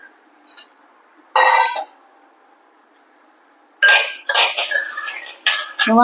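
Spoon scraping and clinking in a bronze uruli as mung dal roasts in it: a short metallic burst early on, then a longer run of busy scraping and clatter near the end, with quiet gaps between.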